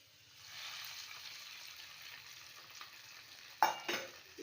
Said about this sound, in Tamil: இப்போ இதை நம்ம நல்லா கிளறி விட்டுக்கலாம்.